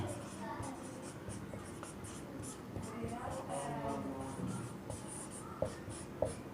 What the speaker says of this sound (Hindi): तो यहाँ लिख देंगे टावर की ऊंचाई